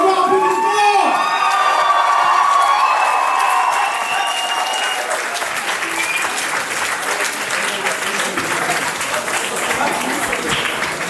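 After an Indian dance show, a large audience breaks into loud, sustained applause mixed with cheering and children's shouts, a voice carrying over the start.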